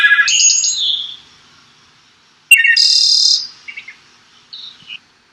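Electronic birdsong from a music app chirps and trills, a bright burst, a pause, then another longer burst followed by a few short tweets, clean with no background.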